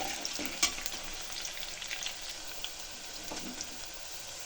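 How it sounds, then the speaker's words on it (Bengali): Chopped onion and bay leaf frying in oil in a pressure cooker, a soft continuous sizzle with scattered crackles and a few stirring scrapes, fairly quiet and steady throughout. "পেঁয়াজটাকে একটু ফ্রাই করে নিচ্ছি।"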